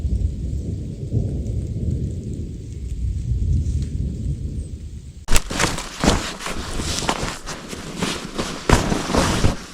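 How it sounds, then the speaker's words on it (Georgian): Light rain patters outdoors near a moss-covered hut at night while thunder rumbles, then a sudden loud crack starts a sharper, crackling burst of thunder over the rain. "მაგრამ ძალიან სუბუქად წვიმს."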